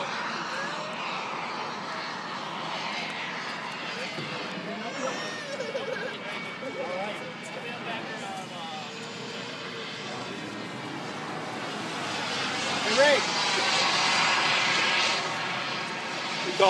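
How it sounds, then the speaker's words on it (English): A radio-controlled jet glider with a small jet engine mounted on top flies aerobatic rolls and loops, its engine producing a steady airborne whine that swells louder near the end, with someone talking over it. "That jet engine on top helps it."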